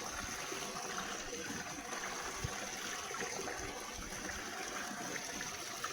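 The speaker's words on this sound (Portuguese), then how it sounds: "Natural, água aqui diretamente da serra." Natural mountain water streams into a deep rock pool at an outdoor waterfall, a steady, even rushing and trickling that fills the whole moment without voices.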